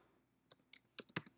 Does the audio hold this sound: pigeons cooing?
no